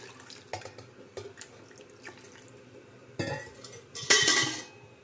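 Drinking water is poured into a container of milk cream while butter is made at home, preceded by a few faint clinks of utensils, followed by a short, fairly close gush of pouring that trails off.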